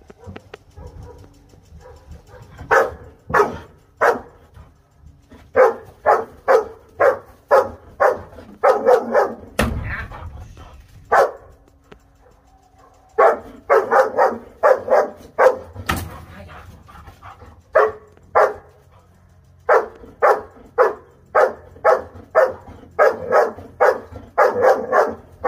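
A young German shepherd barks repeatedly during intense protection training, loud close barks in rapid rhythmic bursts with short pauses between volleys and brief handling noises.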